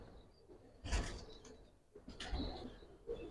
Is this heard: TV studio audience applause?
no